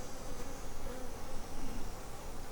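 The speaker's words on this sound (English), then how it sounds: "you notice how calm these bees are?" Honey bees hum in a dense, steady drone around an open hive with a queen present, close and continuous with no voices.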